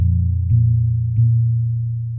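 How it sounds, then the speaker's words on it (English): Gamelan gongs struck with a large mallet give deep, sustained humming tones, with two fresh strikes close together that ring on and slowly fade, no voices over them. "the gongs sound like this"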